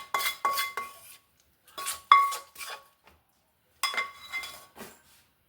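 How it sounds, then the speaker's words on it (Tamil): Cooled mustard and garlic tempering is scraped from a metal pan into a mixer jar for Andhra-style mango thokku, with three clusters of sharp metallic clinks and scrapes separated by short silences and no speech. "இந்த மிக்ஸியில் கொட்டிடலாம்."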